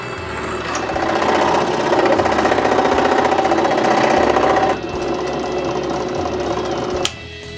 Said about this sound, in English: I drill 2 holes, the width of 2 of my workbench holes